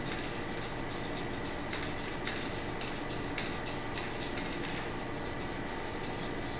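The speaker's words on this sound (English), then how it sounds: "I'm just gonna spray it." Angelus acrylic sealer sprayed from a can onto a finished airbrush portrait with charcoal, chalk and gold leaf, heard as a series of close hissing bursts with short gaps between them, steady and fairly loud, with no talking.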